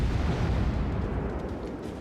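Heavy naval gunfire in World of Warships, a battleship's big guns booming at a cruiser Baltimore, a dense continuous rumble of blasts and deep low-end roar across two seconds with no voices.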